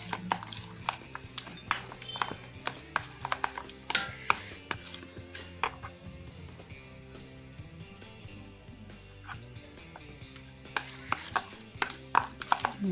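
Ajwain-leaf bajji batter is mixed by hand in a bowl at home, giving soft, irregular wet slaps and clicks that come in short clusters, fairly quiet against faint background chirps.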